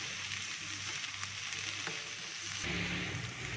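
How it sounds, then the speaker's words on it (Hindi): Chicken pieces fry with onions and spices in a pan, giving a steady loud sizzle with stirring scrapes. The sizzle grows fuller near the end. "अब मैं इसमें डालूंगी चिकन और इसको थोड़ा सा मिक्स करेंगे"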